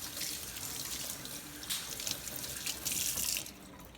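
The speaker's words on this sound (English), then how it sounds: "I'm gonna rinse that off real quick." Tap water runs steadily over hands being rinsed of a sugar scrub at a sink, a continuous splashing flow that swells louder near the end before easing off.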